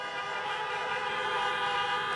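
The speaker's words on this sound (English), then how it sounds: "Honk if you agree with me." Car horns blaring together at an outdoor drive-in campaign rally in Pittsburgh, Pennsylvania: many overlapping, sustained honks forming one loud, steady wall of sound throughout, with no talk.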